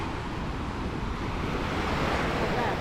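Surf rolls steadily onto the beach at Nusa Dua in Bali as a broad, continuous wash of waves, with gusty wind noise buffeting the microphone throughout.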